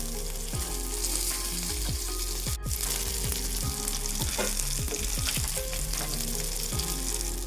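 Fish fry in oil on a flat pan, giving a loud, continuous sizzle and crackle with scattered sharp pops and a few scraping stirs throughout.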